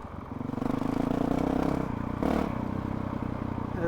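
A Honda CRF 450 RL dirt bike ridden off-road, its single-cylinder engine buzzing loudly and close with a brief surge of revs, mixed with clattering and scraping over rough ground.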